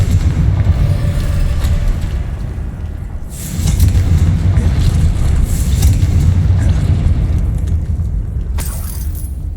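A Confringo blasting spell explodes in Hogwarts Legacy, loud rumbling booms with a deep low roar, a heavier blast at about three and a half seconds and a sharp crack near the end.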